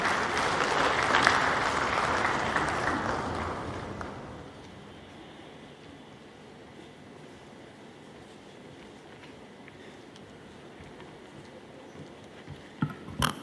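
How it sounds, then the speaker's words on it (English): A conference audience claps loudly for several seconds, then the applause thins and fades into quiet room murmur and scattered sounds. "Please, a round of applause for Mary Ada."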